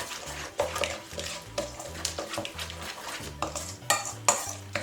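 A spoon stirs and scrapes through a thick masala spice marinade for chicken in a bowl, with repeated close clinks and wet squelching strokes in a steady rhythm and no talking.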